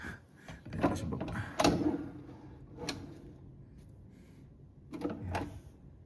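A drawer in a hotel apartment slides open and shut a few times, giving soft rolling scrapes and light knocks at close range in a quiet room, with no talk.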